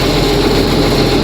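A 1586 farm tractor's diesel engine runs at a steady idle, a loud, close, low rumbling drone that stays constant throughout with no talk.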